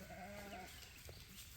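Young goats bleating out on a lambing and kidding pasture, a few sustained wavering cries early on, then quieter scattered bleats over a steady outdoor background hiss.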